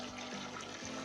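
Hot water poured from a large glass into browned mutton curry in a pressure cooker, a steady close-up splashing pour with no talk.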